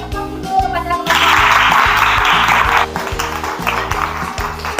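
An audience claps for a sociology class presentation in a school teacher-training session. A dense burst of applause lasts about two seconds over steady background music, then thins out and fades.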